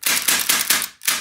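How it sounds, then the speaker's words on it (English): Plastic gas blowback airsoft pistol firing a rapid string of five sharp, close shots with a short gap before the last, each crack blending into the next. "This is a plastic gas blowback."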